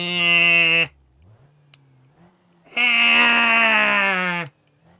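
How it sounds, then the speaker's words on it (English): A mid-range four-cylinder diesel engine in the BeamNG driving game, in neutral, gives two loud, steady revs: a short one, then a pause, then a longer held rev before it drops back to idle. "This diesel engine sounds too much like a gas motor."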